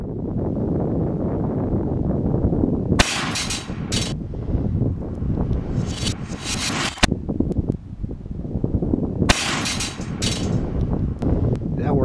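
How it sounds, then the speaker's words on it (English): A Serpent Arms 550L 28-gauge PCP air shotgun fires tungsten rounds at steel targets and dinnerware outdoors, giving four sharp, loud reports spaced a few seconds apart over steady wind noise. "let's finish up by blowing away some steel targets and some dinnerware. For all these shots, I'm going to be using the tungsten rounds."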